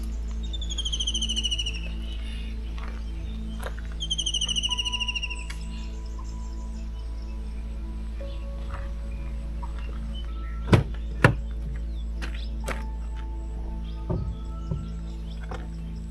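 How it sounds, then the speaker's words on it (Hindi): Birds calling in forest near Kotabagh by Corbett on a cloudy morning: a few clear descending whistled phrases early on, then scattered faint chirps and a couple of sharp knocks over a steady low hum. "यहाँ पक्षियों की आवाज तो आ रही है"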